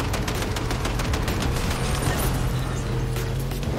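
Rapid, dense video game gunfire in a Fallout Wastelander challenge match, a continuous loud burst of shots with a faint voice underneath.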